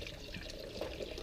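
Tap water running steadily into a Stanley cup, a soft continuous splashing stream close to the microphone with no talk over it.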